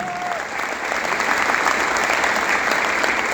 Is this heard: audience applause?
yes